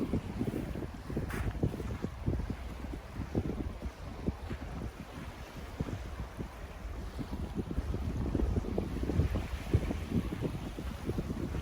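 A boat leaving the harbour at Gedser bound for Germany, low engine rumble mixed with heavy wind noise and sea wash, continuous for about twelve seconds.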